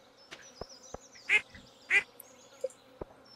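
Ducks on a farm in Stardew Valley give a few short, faint quacks spaced apart, with small clicks and game ambience between them.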